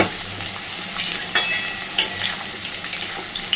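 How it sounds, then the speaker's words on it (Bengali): Potato pieces sizzle steadily in a pan while a utensil stirs them, with sharp scraping clicks scattered through. They are being fried for a traditional Bengali fish-head muri ghonto. "এদিকে দেখুন আমি আলুগুলোকে বেশ সুন্দরভাবে ভেজে নিয়েছি"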